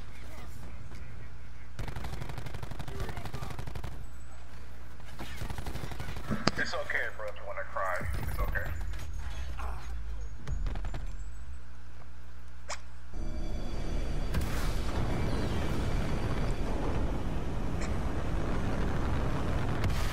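Gunfire and explosions ring out on the Nuketown map of a Black Ops shooter game, with rapid automatic bursts, sharp single shots and heavy booms over about twenty seconds, and players talking over the action.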